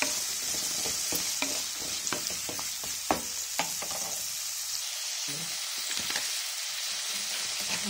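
Ridge gourd pieces drop into a hot pan and fry with a loud, steady sizzle. Repeated spoon scrapes and stirs sound close by, and no one speaks.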